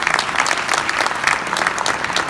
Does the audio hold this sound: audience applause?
yes